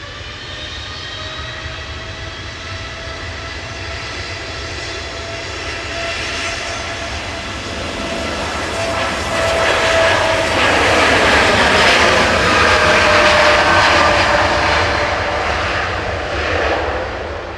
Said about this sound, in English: Helvetic operating for Swiss Air taxiing out as well.